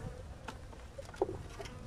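Honeybees buzz around an open hive during hive inspection, a soft, close hum with a few brief louder passes of individual bees, and no talking.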